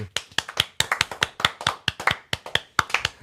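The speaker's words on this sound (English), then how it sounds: "Ed thinks the clapping is weird" A small group of men clapping together in a studio podcast setting, sharp close claps in a quick rhythmic pattern with short groupings and pauses, repeated steadily for a few seconds.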